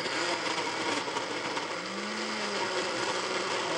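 A kitchen blender on its blend setting whirs steadily while processing a breakfast mixture, a loud, even motor roar with a brief lower tone partway through, no talk.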